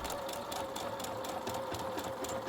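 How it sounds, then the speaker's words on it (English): A sewing machine stitching fabric on a doll's opening tab, a rapid even mechanical chatter running steadily and fairly close throughout, with no talk over it. "Put the fabric in the right direction under the machine and go to town."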